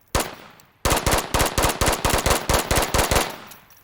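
Volk rifle firing in a video game, a loud single shot then a rapid run of close, punchy three-round bursts with no talking.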